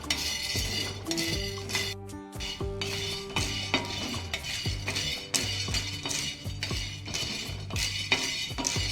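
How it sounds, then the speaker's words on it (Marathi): Val beans dry roasting in a pan, with a spatula repeatedly scraping and clinking against the metal in an uneven rhythm, close and fairly loud, over a faint steady tonal background. "आपल्याला वाल हे भाजून घ्यायचे"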